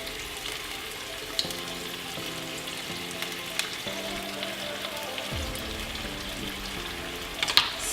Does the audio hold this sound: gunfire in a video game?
no